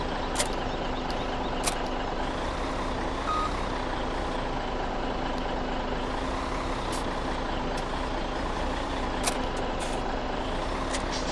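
A heavy hook truck in a modding video game unhooks a trailer, its reversing beeper pulsing steadily over a constant engine drone, with sharp air-brake-like hisses and clicks popping out now and then, close and loud.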